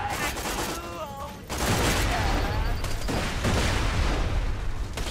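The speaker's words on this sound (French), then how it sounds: "J'ai complètement zappé que le rayon des grenades était à ce point gigantesque." Grenade explosions and gunfire in the video game Borderlands 2, a quieter stretch with a brief voice giving way to dense, booming blasts and rapid shots that continue loud to the end.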